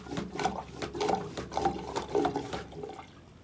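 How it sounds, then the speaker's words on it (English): Hand pump working a boat's marine toilet, pushing the bowl contents through to a biodigester: a steady series of rhythmic, wet sloshing and gurgling strokes, close and moderately loud, with no talking. "using the black handle, we begin to pump to empty the toilet and push the contents to the biodigester"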